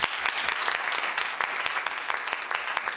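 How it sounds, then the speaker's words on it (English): Students in an auditorium audience clap their hands, a moderately sized crowd producing quick overlapping claps with distinct sharp individual hits, fairly steady and a little distant, no talking. "Just clap your hands."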